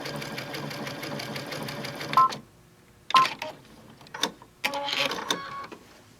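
A Baby Lock Chorus sewing machine stitches in steady whirring runs, pausing to pivot at a corner and starting up again in short, close bursts.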